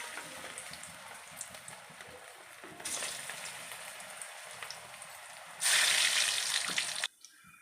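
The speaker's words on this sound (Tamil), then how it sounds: "இப்போ எண்ணெயில் போட்டு பொன்னிறமாக பொரித்து எடுத்துக்கலாம்." Small balls of gram flour dough deep frying in hot oil, a hissing, bubbling sizzle that swells sharply louder as more pieces go in, then cuts off abruptly.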